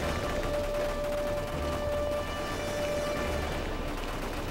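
Enemy gunfire and RPGs rattle in Modern Warfare 3 Spec Ops, a dense, somewhat distant fusillade of rapid shots under a steady tonal hum, continuous throughout.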